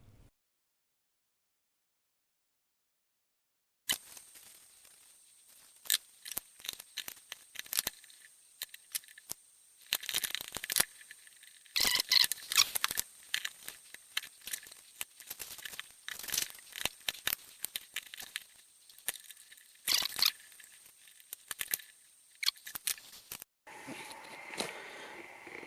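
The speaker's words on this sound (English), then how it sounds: "using the scraper and pressing down was actually the easiest way" Scraper pressing down and cutting through SAE felt during a lathe refurbish, giving a dense run of close, crunchy tearing and crinkling bursts after a few seconds of silence, fairly loud and continuous with no talk.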